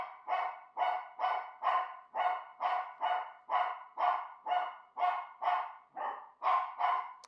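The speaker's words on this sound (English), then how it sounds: "that's Jack Smith barking" Repeated dog barks, about fourteen evenly spaced sharp yelps in steady rhythm, fairly close and clear with no talk over them.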